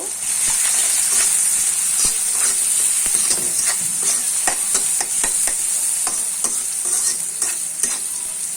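Spices frying in a pan with salt and turmeric, a constant hissing sizzle overlaid by regular scraping clicks of a spatula stirring against the pan, close and fairly loud with no voices.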